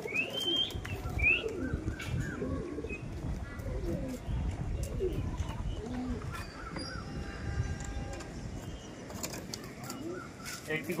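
Home pigeons, including a red-faced one, coo softly and repeatedly at close range, with occasional chirps from other birds, while people talk over them throughout.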